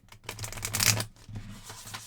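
A thick, gold-leafed tarot deck is shuffled close by, the cards riffling with dense, rapid papery flutters that swell to a peak and then ease off.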